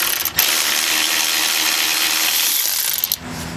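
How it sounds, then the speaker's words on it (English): An electric ratchet whirs steadily for about three seconds as it spins a castle nut off a car's upper ball joint, with a brief stop near the start and a clicking halt at the end. "I'm going to use my electric ratchet to zip it out"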